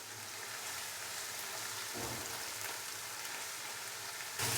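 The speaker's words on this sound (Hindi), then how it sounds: "अदरक और लहसुन के पेस्ट को हल्का सा फ्राई कर लेंगे" Ginger and garlic paste frying in a pan for a mutton and tinda curry, giving a steady, even sizzle at moderate level that carries on throughout with no voices.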